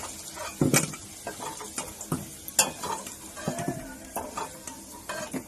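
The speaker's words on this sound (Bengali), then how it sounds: "এরকম ভাবে লাল লাল করে আলুগুলো ভেজে নেবে আগে।" Potatoes frying in hot oil in a wok, a steady sizzle broken by a few sharp scraping stirs and clinks of a utensil against the pan, close and clear with no talking.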